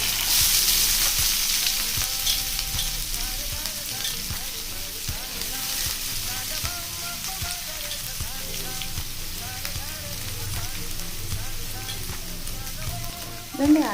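Chopped onions fry in hot oil with tempered curry leaves for a mushroom gravy, a loud, continuous crackling sizzle close by, with soft stirring scrapes throughout and a knock at the end.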